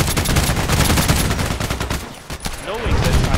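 Rapid automatic fire from an HK G36C rifle in the shooter game Contract Wars, loud, dense bursts of shots that continue almost without a break.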